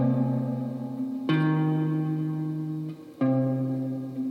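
A bass guitar plays the outro lick of a song slowly, three sustained plucked notes each ringing for over a second, heard up close and alone.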